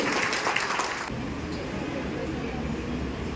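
Crowd applause welcoming poet Ashok Vishwa on stage at a Rajasthan farewell program: a dense burst of clapping for about a second, then a softer murmur of the gathered audience.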